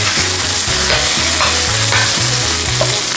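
Garlic sautéing in butter in a pan, a loud, dense, continuous sizzle and crackle heard up close with no voices.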